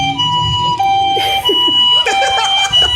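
Ambulance siren sound effect wailing in steady, repeating pitch sweeps, loud and continuous throughout, with no talk over it.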